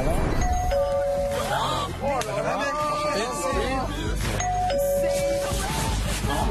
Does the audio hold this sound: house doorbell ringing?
yes